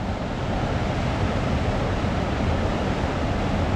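River water released through a dam rushing hard downstream, a loud, continuous broadband roar with no talk over it.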